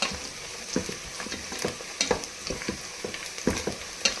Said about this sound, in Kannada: ನೋಡಿ, ಗೋಡಂಬಿನೂ ಫ್ರೈ ಆಗಿದೆ, ಈರುಳ್ಳಿ ಫ್ರೈ ಆಗಿದೆ